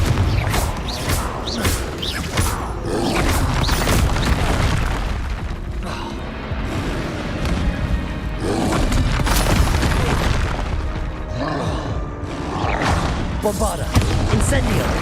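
Repeated Confringo fire-blast spells in Hogwarts Legacy erupt over and over in a dense run of loud booms and crashing impacts, with barely a pause between blasts.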